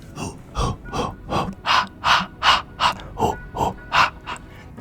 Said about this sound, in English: they will not have the sound cue of Jason being nearby